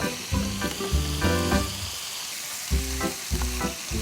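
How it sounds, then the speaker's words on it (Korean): Thin pork belly slices frying in a pan, a dense steady sizzle with irregular crackling bursts and rhythmic low thumps from stirring, close and loud with no talk. "저는 고기 조금 더 바짝 익히도록 할게요"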